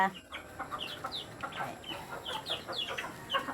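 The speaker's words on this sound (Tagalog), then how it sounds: "pakainin ko ang aking mga alagang mga manok" Several pet chickens cluck and chirp in short repeated bursts nearby at afternoon feeding time, over a soft background hum.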